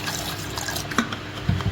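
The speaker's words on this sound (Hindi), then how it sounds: "मैं इसे हल्का सा पानी डालना चाहूँगी" Water is poured into a sattu drink with ice, a soft trickling, splashing pour close by with a couple of brighter splashes near the end, heard alone against a faint background hiss.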